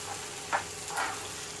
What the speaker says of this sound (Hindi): अभी मैं अदरक लहसुन डालूंगी